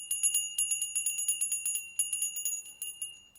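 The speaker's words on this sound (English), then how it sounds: "we just ring the bell to clear the energy around us" A small bell rung to clear energy gives a fast run of bright, ringing strikes, dozens in quick uneven succession with a sustained high tone under them, close and fairly loud with no talking.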